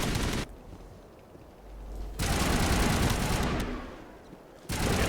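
Mass Effect gunfire comes in two dense, loud bursts of rapid shots, separated by a quieter stretch of low rumble, with a third burst starting at the very end.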